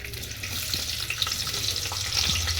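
Spices tempering in hot oil give a steady, dense crackling sizzle with a faint watery hiss, close and continuous with no talk.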